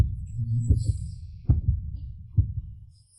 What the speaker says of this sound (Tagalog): Bakit kaya ganito kabilis ang tibok ng puso ko?